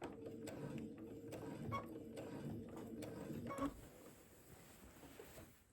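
Sewing machine stitching quilting lines across a Dresden tree skirt, a steady, quiet mechanical chatter with rapid needle ticks that pauses briefly near the end.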